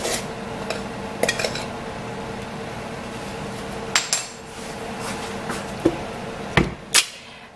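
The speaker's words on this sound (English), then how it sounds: "I'm going to gently mix this." Flour, baking powder and salt stirred together in a bowl for blueberry muffin batter, with scattered clinks and scrapes of a utensil against the bowl over a steady background hum, no talk.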